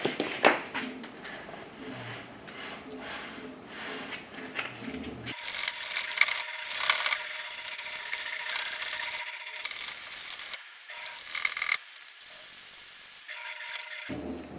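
Sandpaper of about 150 grit rubs by hand, without a block, along a rounded wooden edge, a steady raspy scraping in repeated strokes that grows louder and brighter partway through and cuts off briefly near the end.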